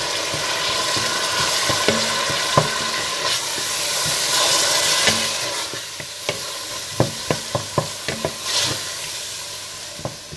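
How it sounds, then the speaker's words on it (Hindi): Tomatoes with coriander powder and salt sautéing in a pan for dal, a continuous loud sizzle and hiss punctuated by a run of sharp spoon clinks and taps against the pot. "इसके बाद इसमें टमाटर, धनिया पाउडर और नमक डालकर भून लें।"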